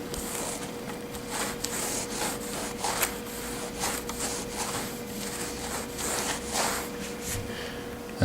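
A dry microfiber cloth rubs over a smoke-damaged surface in steady, repeated soft swipes, close and fairly quiet, with a faint constant hum beneath.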